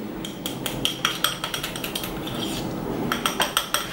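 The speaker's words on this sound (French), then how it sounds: "je vais mélanger tout ça" A utensil repeatedly clinks against a bowl while salt is stirred into a homemade hair treatment mixture, producing quick rhythmic taps with a brief lull in the middle.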